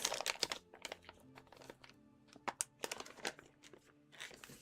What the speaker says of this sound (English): There's a good bit of crunchy treats.